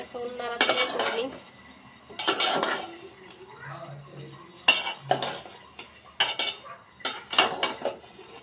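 A spoon stirs bottle gourd in a metal cooking pot, the gourd going into a shrimp curry, with repeated scraping clatters in bursts across the clip, fairly close, and faint murmuring between strokes.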